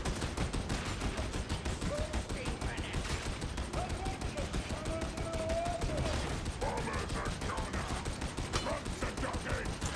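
Sustained rapid gunfire from an Ogryn in the Darktide video game, a dense continuous stream of loud shots with game effects layered underneath, lasting the whole stretch without pause.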